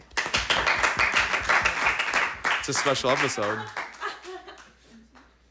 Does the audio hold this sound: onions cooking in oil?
no